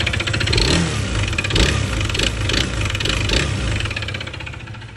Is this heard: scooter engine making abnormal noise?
yes